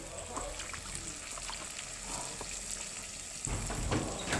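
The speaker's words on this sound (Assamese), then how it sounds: "লৰাৰ পিছত এতিয়া আমি দিম আঞ্জা, মানে মাংস বহাই দিম।" Meat frying in a pan seasoned with turmeric and salt, giving a steady close sizzle with faint crackles, growing louder near the end as the meat settles into the hot oil.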